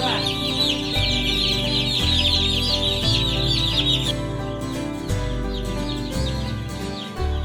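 A crowd of newly hatched chicks and poults, meat birds on a homestead, peeps constantly in dense, shrill overlapping chirps heard close up over a low steady hum.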